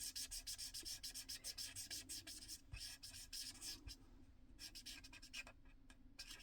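An alcohol pen colours a flower on paper, close and quiet, with quick repeated scratchy strokes in a steady rhythm and a short pause midway.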